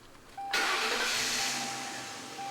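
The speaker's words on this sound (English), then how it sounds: "Now start the engine." A PF19 Big Dawg II unit's engine cranks and catches in one loud burst, then settles into a steady, broadband running roar that holds close and even, with no speech.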